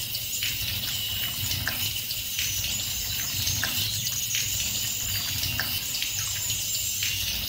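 A faucet runs continuously while hands and forearms are washed up to the elbows for wudu, a steady close splash with small irregular drips and slaps of water, no voices.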